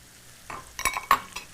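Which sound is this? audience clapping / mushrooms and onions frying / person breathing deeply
mushrooms and onions frying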